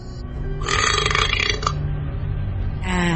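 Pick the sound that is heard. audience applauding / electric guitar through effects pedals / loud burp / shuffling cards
loud burp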